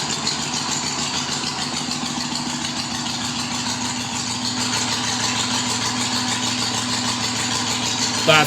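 A Harley-Davidson motorcycle engine idles close by in a loud, steady low rumble with an even pulsing throb, swelling slightly near the end as if about to rev.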